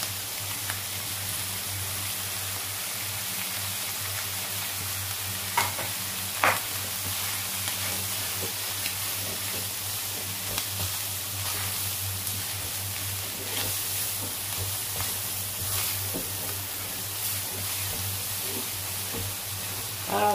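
Corned beef stir-fried with spring onions in a pan gives a continuous close sizzle and frying hiss, with occasional clacks and scrapes of stirring and no talk.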